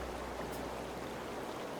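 Waterfall ambience in a visual novel game plays as a steady, soft rushing wash of falling water, faint and unbroken, with no voices.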